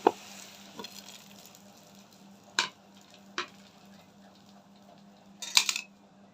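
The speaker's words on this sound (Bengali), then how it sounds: "আর একটু লাল লাল করে ভাজবো আমি।" Layered balushahi sweets frying in a pan, a faint steady sizzle close by, broken by a few sharp clinks and scrapes of a utensil.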